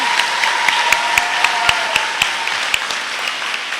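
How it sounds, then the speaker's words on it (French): Audience applause at a school awards gala, a steady dense wash of clapping filling the hall, with a few sharper individual claps standing out above the crowd throughout. "Et on peut les applaudir bien fort!"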